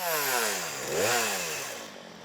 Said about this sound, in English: along with friend and cohort Ivor Nelson, gathered together a group of volunteers who wield chainsaws with absolute finesse.